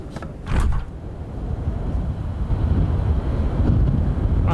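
Wind gusts and buffets around a parked Kodiak 100 aircraft at an East London airfield in Microsoft Flight Simulator 2024, a low rushing roar with a couple of sharper puffs near the start, steady and fairly loud.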